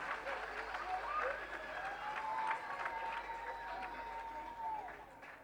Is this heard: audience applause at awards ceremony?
yes